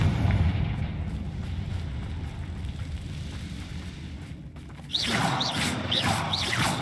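A blasting spell in the Hogwarts Legacy video game sets off rumbling explosions, with heavy low booms early on, then a sharp crashing burst and crackling debris near the end.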